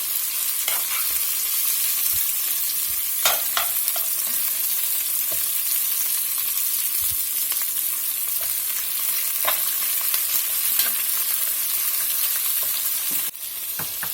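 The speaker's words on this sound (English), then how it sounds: "Get to cooking the old cast iron pot today." Steady sizzling and frying in a cast iron pot as Cajun jambalaya ingredients cook, with occasional scraping clicks of stirring and a few sharper metallic taps, continuous and close, with no talking.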